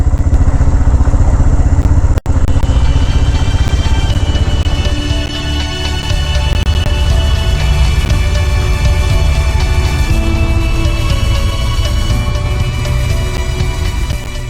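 Royal Enfield Himalayan motorcycle engine running steadily and loud throughout, with low rumbling idle, a brief dropout near the start, and busy clattering around it, parked among other bikes.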